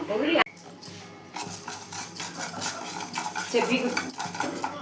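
Fenugreek and mustard seeds are dry-roasted in a pan for a pickle, with a spoon scraping and stirring in quick repeated strokes. The sounds are close and fairly loud, and a voice speaks over them.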